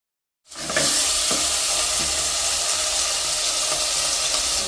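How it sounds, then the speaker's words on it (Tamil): Fenugreek sautéing in a hot pan, a loud, close, steady sizzle that bursts in suddenly after a brief silence and holds evenly to the end, with faint stirring scrapes and no talking. "இப்போ வெந்தயம் இஞ்சால வதக்கி வைக்கிறேன்"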